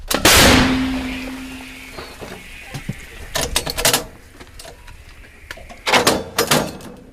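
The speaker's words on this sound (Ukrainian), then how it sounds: "Гармата! Постріл!" A loud artillery gun blast near Pokrovsk, Ukraine, opens, followed by a fading rumble and then several sharp bangs and clatters in scattered bursts, close by.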